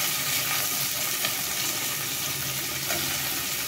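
Onions and spices fry in a pan for dal khichdi, giving a steady, dense sizzle that stays loud and even throughout with faint stirring scrapes and no talk.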